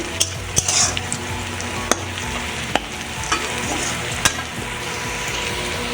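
Softened onions fry to a reddish-brown in a pan for a village-style desi chicken curry, giving a continuous loud sizzle. Sharp clicks of a stirring spoon break in at intervals.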